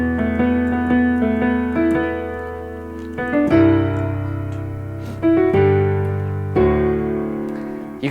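A solo piano plays a swung line with triplet runs over sustained low chords, several phrases struck in clear succession with notes ringing and decaying, close and fairly loud with no voices.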